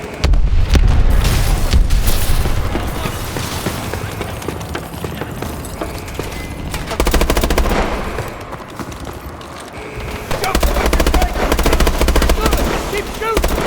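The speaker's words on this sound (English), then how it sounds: "Keep shooting!" Heavy gunfire fills a combat scene in the video game Call of Duty: Advanced Warfare: dense bursts of automatic fire and booming impacts, loud and close throughout, with surges of intensity and occasional shouted voices in the mix.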